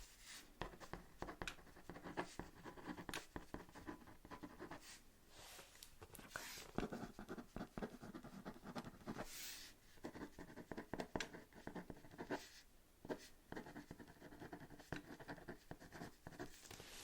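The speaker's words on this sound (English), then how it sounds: "let me write that down" Pen scratching steadily across paper at close range, with a dense run of quick, soft strokes and small taps in a quiet room.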